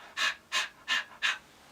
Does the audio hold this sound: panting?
yes